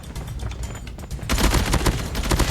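Rapid automatic gunfire from the M13 rifle with the Liminal Flare skin in Call of Duty Mobile, with loud, sharp, thunderclap-like reports. A lighter patter of shots comes first, then a dense, continuous burst takes over.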